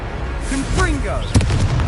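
Confringo blasting spell in Hogwarts Legacy, a short sharp explosive burst near the end after a spoken incantation-like voice, set against game ambience with talk throughout.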